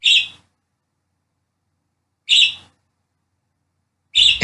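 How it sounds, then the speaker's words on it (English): Brief bird chirps from outdoors come in three short bursts spaced a couple of seconds apart, with near silence between them. "my bird hears the birds from outside."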